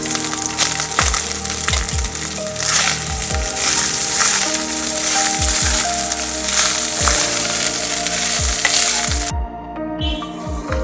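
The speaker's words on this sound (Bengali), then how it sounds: "এবার আমি অল্প অল্প ভাত দিয়ে ভাত মিশিয়ে নাড়াতে থাকবো।" Steady sizzling in a hot pot with repeated scraping strokes as cumin rice (jeera rice) is stirred, the churning and crackle continuing throughout before cutting off near the end.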